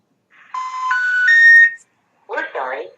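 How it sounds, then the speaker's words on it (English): A phone call to a senator's office connects, giving a short series of rising electronic tones followed by a brief buzzy ring burst, close and clear. "we are dialing Senator Susan Collins from Maine phone number."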